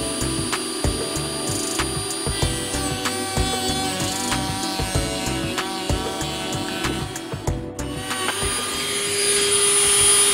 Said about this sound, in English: Dremel, and by the way, I love my Dremel.